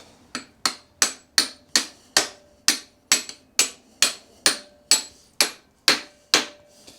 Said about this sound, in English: Give it a few taps with a hammer.